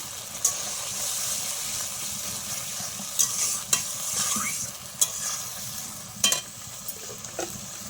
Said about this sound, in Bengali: আমি মশলার বাটিটা ধোয়া একটুখানি জল দিয়ে দিলাম